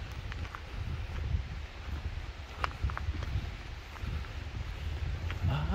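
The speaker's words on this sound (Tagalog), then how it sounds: "Malamig ang simoy ng hangin." Cold wind blowing around the Lynn Canyon Suspension Bridge in Vancouver, a steady low rumble with buffeting gusts across the microphone, accompanied by faint scattered taps and rustles and no speech.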